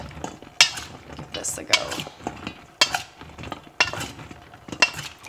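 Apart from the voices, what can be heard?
mini sweet peppers being tossed in oil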